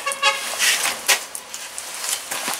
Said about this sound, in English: somebody's honking their horn out there